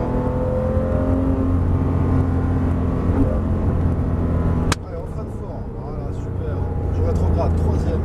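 A GT3 race car engine roars steadily at high load on the Nogaro circuit, heard loud and close from inside the cockpit, with a brief drop and then a build in pitch as it accelerates; someone talks over it throughout.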